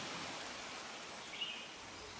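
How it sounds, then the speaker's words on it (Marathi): Rain-fed waterfall at the roadside near Panshet dam, Pune, in the monsoon: a soft continuous rush of cascading water at moderate distance, with one brief high chirp partway through. "त्या धबधब्याचा आवाज एकदम मंत्रमुग्ध करणारा होता"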